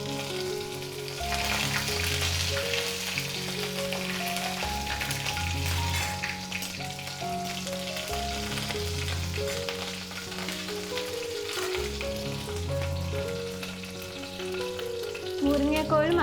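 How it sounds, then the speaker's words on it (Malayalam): Curry leaves dropped into hot oil with mustard seeds and urad dal for a Kerala vegetarian lunch, crackling and sizzling steadily up close under loud background music. "കറിവേപ്പില ആഡ് ചെയ്ത് കൊടുക്കാം."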